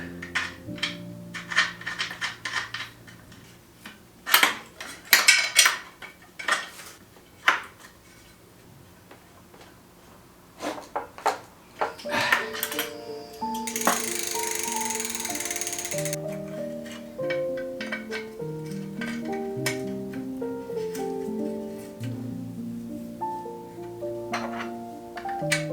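Screws being driven back into an e-bike after a flat-tire repair: a run of crisp ticking ratchet clicks in uneven bursts, later joined by background music.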